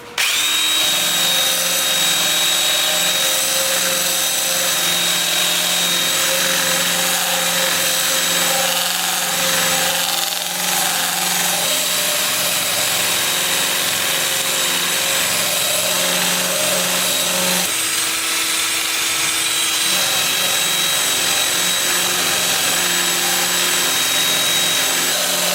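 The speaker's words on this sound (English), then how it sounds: "I'll have the lathe spinning forward at 370 RPM." A wood lathe spins forward at 370 RPM while a 2-inch 80-grit sanding disc works a turned wooden candy dish, a steady loud whirring drone with shifting grinding tones and no talk.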